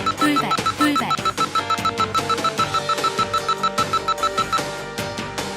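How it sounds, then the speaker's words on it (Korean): A sudden-hazard warning alarm sounds on a Korean driving test course as a loud, rapid series of regular electronic beeps. The pulses repeat steadily and close by after a brief tonal start. "차량 진행 중 돌발이라는 경고 음성과 동시에 차량 앞쪽에 설치된 돌발등이 켜지게 되면"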